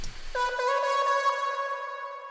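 A heavily distorted Sylenth1 synth patch built from a square-like wave stacked with several saw waves enters after a brief soft noise and sustains as a bright, buzzing, harmonically rich tone, loud and alone.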